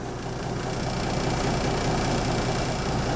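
An old Kenworth W900A truck engine idles with a steady, low, vibrating rumble that holds constant and fairly close, with no speech over it.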